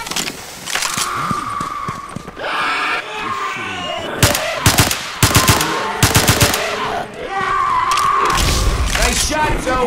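Rapid, loud bursts of automatic gunfire from the video game Left 4 Dead 2 come in dense clusters. Sustained engine-like noise and shouting voices run around the shots.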